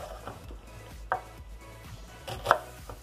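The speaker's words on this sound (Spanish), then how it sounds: "Vamos a partir nuestra cebolla." A knife chops an onion into coarse dice on a board, a few sharp, widely spaced strikes standing out against a quiet kitchen background.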